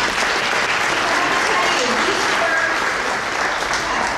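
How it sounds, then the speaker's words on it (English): Sustained applause from a large crowd, steady and loud throughout with no pauses, a dense wash of clapping hands. "Let's give them a round of applause."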